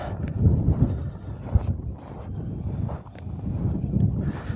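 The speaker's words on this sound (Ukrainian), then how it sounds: "Вітер сьогодні в нас холодний." Steady cold winter wind in a garden in late December rumbles and buffets the microphone, with low gusty roaring that rises and falls throughout, no voices.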